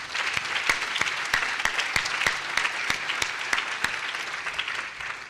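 Audience applause at a welcome luncheon: steady, sustained clapping from a room of people, with sharp individual claps standing out near the front, lasting about five seconds.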